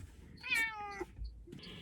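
A cat gives one clear, fairly close meow with a rising then falling tone, followed by a short softer sound, in a quiet woodland cabin setting.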